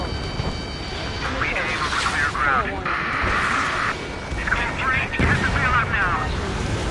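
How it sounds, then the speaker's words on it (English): A missile strikes its target and explodes in the Ace Combat 7 jet combat game, sounding as a steady, loud, rumbling blast-and-gunfire wash with spoken radio chatter over it. "Missile hit."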